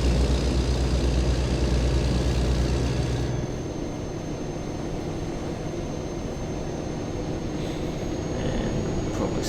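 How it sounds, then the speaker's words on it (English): Kenworth W900 truck engine in American Truck Simulator: a loud, steady low diesel drone that drops in pitch and level after about three seconds as the truck shifts down, then keeps droning evenly with no talk. "It's going to drop back a few gears here for this ramp. Grinding gears again as usual."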